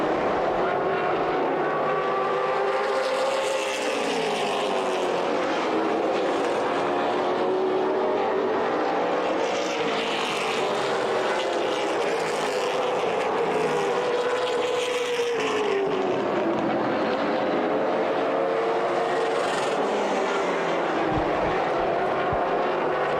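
Late model race cars circle the track in a feature race, their engines roaring continuously, with loud rising and falling passes, an overlapping pack whine and no talk.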